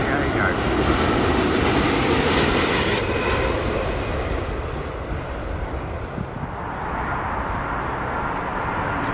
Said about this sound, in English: It's Virgin's A350 coming in from JFK.